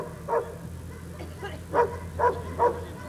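A dog barks several times at a protection dog exhibition, short sharp barks in a loose rhythm, moderately near over a steady background hum.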